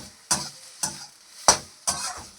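A spiced ground paste fries in a pan, with four distinct scraping stir strokes at a slow, even rhythm over a soft sizzle, close and clear.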